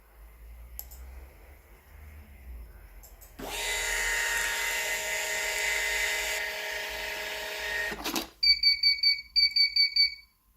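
A Zywell ZY308 thermal receipt printer whirs with a steady high buzz for several seconds, then stops, followed by a quick series of sharp electronic beeps.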